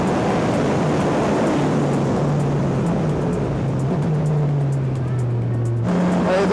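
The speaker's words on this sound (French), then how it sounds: "Alors on sent vraiment le couple de turbo là que ça s'enclenche" A race car engine on a track pulls hard with a steady loud roar, its pitch climbing through the run as the turbo kicks in, before a sudden shift near the end.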